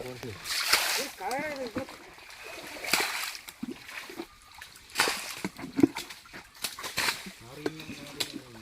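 Water flows and splashes loudly in a forest stream dammed upstream to slow the current for catching fish, with bursts of sloshing and splattering over a constant rush, and someone talks throughout.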